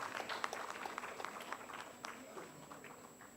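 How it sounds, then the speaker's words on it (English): Faint, distant clapping from a round table discussion audience patters along unevenly, sounding thin and far off with a low murmur underneath. "A big round of applause for Dr."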